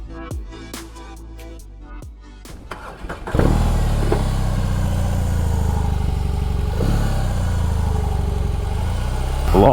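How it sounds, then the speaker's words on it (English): A BMW R18 cruiser motorcycle gives a few sharp clicks and starter sounds, then its engine fires up and settles into a loud, deep, steady idle rumble that runs close by until the end, with no talking. "Today we are hopping on the R18 and it might be one of our last rides on this beautiful motorcycle."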